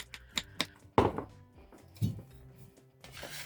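Almonds, both plain and chocolate coconut covered, chopped with a knife on a board: a few dull, irregular thunks with short gaps between them, close and fairly quiet, with no voice.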